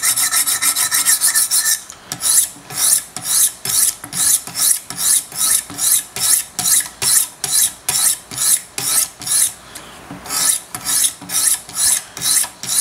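A Large Sebenza 21 Insingo knife blade is stroked along Wicked Edge sharpener stones in a steady series of about twenty quick, evenly spaced rasping passes, loud and close with no talking.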